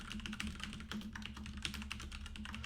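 Rapid, steady typing on a computer keyboard, close and clear, with dense overlapping key clicks over a constant low electrical hum.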